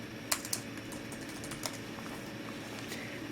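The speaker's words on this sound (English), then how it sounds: "Type in my password here." A handful of soft, quick keystrokes tap on the keyboard of a Samsung Series 9 NP900X3D-A01US ultrabook as a password is entered in a quiet room.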